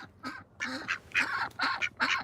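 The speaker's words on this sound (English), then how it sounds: "Let's wake these ducks up." Several ducks quack loudly after being roused, giving five or so rough honking calls in quick, uneven succession close by, with no talking.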